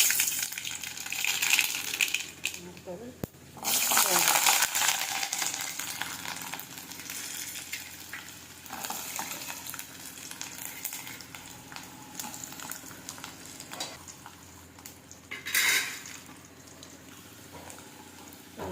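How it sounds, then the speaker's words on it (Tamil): Mustard seeds splutter in hot oil during tempering for a tamarind curry, making a dense crackling hiss with louder popping surges near the start and again toward the end. "இப்போ தாளிச்சிக்கலாம் நம்ம கடுகு போட்டுக்கிறேன்"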